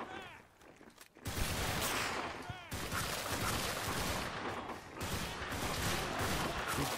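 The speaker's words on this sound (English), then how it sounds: "he's firing his gun at the SWAT" Gunfire rattles in a Garry's Mod fight between a SWAT team and horror monsters from The Evil Within, with dense bursts of shots after a quieter start and brief pauses, plus faint voices.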